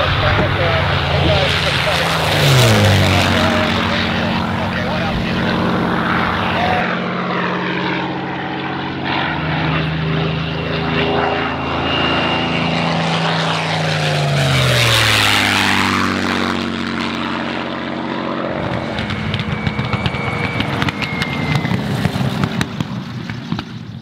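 A P-51C Mustang propeller fighter makes loud low passes at an air show, its engine drone swelling and falling with strong pitch shifts as it roars by and turns, with a voice talking over it.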